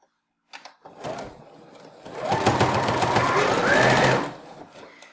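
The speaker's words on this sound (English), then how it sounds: "I'm going to sew all the way to the end of the square." Sewing machine chain piecing quilt block squares for a saw tooth block: a short start, then a steady whirring run of stitching that speeds up and holds for about two seconds before stopping, close and fairly quiet.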